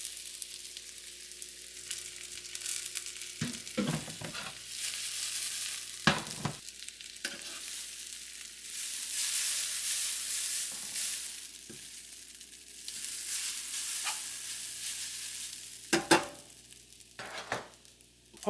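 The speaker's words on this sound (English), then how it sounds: "now we're gonna pan fry the Cantonese noodle" Cantonese noodles pan frying in a wok or pan, a steady close sizzle with bursts of scraping and stirring clatter throughout, no voices.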